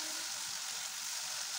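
Spice paste for pabda fish fries in a pan with a steady, dense sizzle throughout, close and continuous, with no voices.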